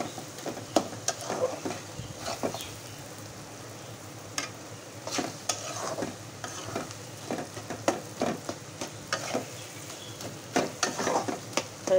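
Dried fish (shutki) frying in a pan with turmeric and chili, a steady close sizzle punctuated by frequent clicks and scrapes of stirring, no voices.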